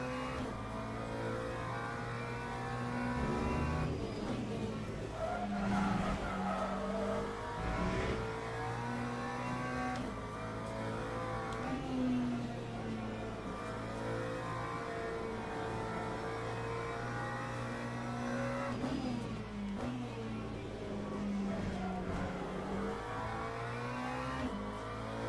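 A Ferrari race car engine in Le Mans Ultimate drones steadily with shifting revs and gear changes through a long stretch, loud and continuous, with other cars' engines blending in.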